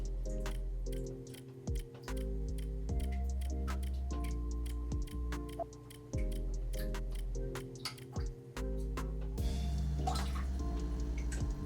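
Water runs through a RODI filtration system driven by a booster pump, a steady humming drone that shifts pitch in steps, with small drips and ticks scattered throughout.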